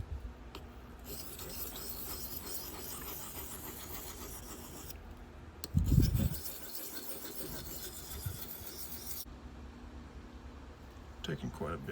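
A dull knife is drawn across a sharpening stone in a steady, quiet rasping scrape, continuous strokes with a brief louder knock midway and a voice talking intermittently.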